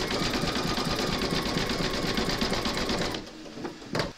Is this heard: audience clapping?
no